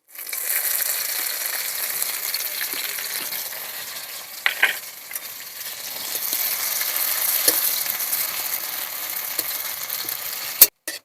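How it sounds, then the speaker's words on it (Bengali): Chopped onions fry in mustard oil with bay leaf, dry red chilli and black cumin, giving a steady close sizzle broken by a few sharp clinks and scrapes of a stirring utensil. "পেঁয়াজ আমার সুন্দর করে ভাজা হয়ে গেছে"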